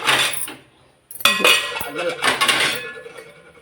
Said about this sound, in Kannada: ಇದ್ರ ಮೇಲೆ ಪ್ಲೇಟ್ ಅಂತ ತೊಗೊಂಡ್ಬಿಡ್ತೇನೆ ಮುಚ್ಚಲಿಕ್ಕೆ.